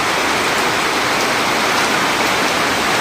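A loud, heavy downpour of rain, dense and unbroken, hammering steadily close by with no voices over it.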